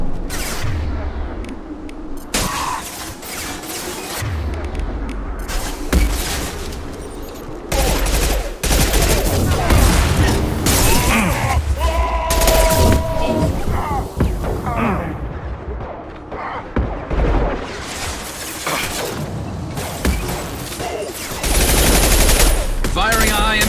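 Gunfire in Mass Effect 2, repeated bursts of rapid automatic fire and heavier booming shots in an intense firefight, with short pauses between volleys and game voices calling out over the shooting.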